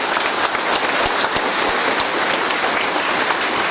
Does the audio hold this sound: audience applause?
yes